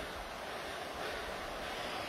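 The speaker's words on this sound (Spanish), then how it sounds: "¿Ustedes ven esa cascada? Esa cascada que está ahí." A waterfall on a river gives off a steady, even broadband rush of falling water, fairly faint and unbroken throughout, with no voices.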